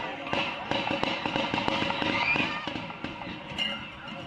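Several sharp bangs of gunfire ring out in daylight outside a student athletic game, recorded on a live stream; the reports come in a rapid, uneven burst over a busy background with voices.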